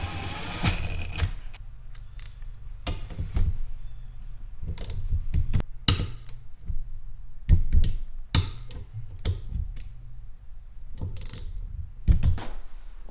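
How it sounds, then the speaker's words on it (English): A low-torque impact gun drives bolts into the engine cases of a Kawasaki KLX110 during an engine build, sounding as scattered short rattling bursts and clicks over a low mechanical hum, fairly close. "I'm going to use a gun. But I have it set on the lowest torque setting, so what I'll be doing is just driving the bolts in until they stop"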